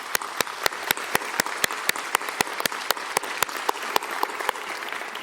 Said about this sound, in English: can we just give them a little round of applause here,